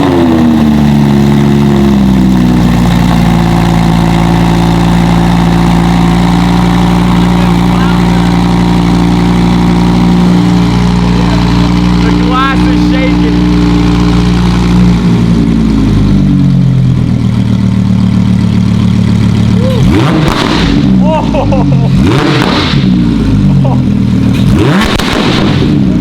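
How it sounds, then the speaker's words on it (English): An Audi R8 fitted with a full titanium race exhaust fires up for the first time, a loud, deep idle holding steady before sharp revving blips and crackles toward the end, with voices now and then over it. "So this is the first startup on the full titanium race exhaust."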